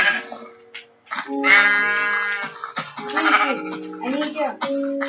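Minecraft sheep bleat repeatedly, loud and close, mixed with tonal game music and sound effects; no one speaks.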